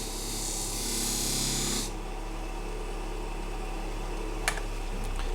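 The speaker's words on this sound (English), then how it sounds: "all I got to do is just polish that edge just a little bit, and I polish the back side" A powered sharpening wheel hums steadily and close while a bench chisel edge is polished, with a brighter hiss during the first two seconds as the steel touches, then a continuous motor drone and one small click.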